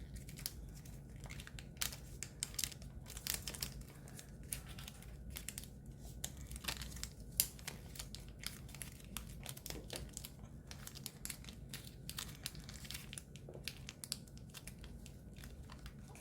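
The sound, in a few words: folding paper for an origami ninja spinning top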